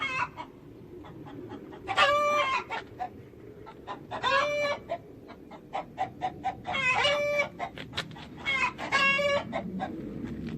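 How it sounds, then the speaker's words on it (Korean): Several chickens cluck and squawk in repeated bursts from inside a shut enclosure at a country house, close by, with rhythmic clucking between louder cackling calls. "무슨 닭 울음소리가"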